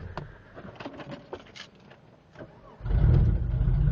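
A Mercedes car with a coolant leak cold starts after a few seconds of faint clicks and rustling: the starter catches and the engine bursts into a loud, steady idle close by.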